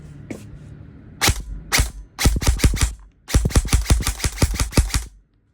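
An airsoft rifle fires in rapid full-auto bursts, sharp and close, with a single shot and two short bursts first, then a longer string of quick shots before it stops.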